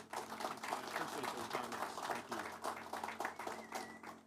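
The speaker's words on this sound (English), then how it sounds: "So let's give a big round of applause for Drew Molly." An outdoor audience applauds at a water tower ribbon-cutting ceremony, a few seconds of steady, moderately distant clapping with voices mixed in.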